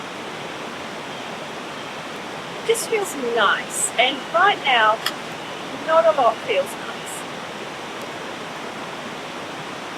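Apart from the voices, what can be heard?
river flowing near campsite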